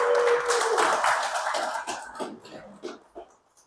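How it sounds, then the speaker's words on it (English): Applause from a small radio club meeting audience, a short round of clapping that dwindles to a few scattered claps, with a cough and some murmuring mixed in. "How about a round of applause,"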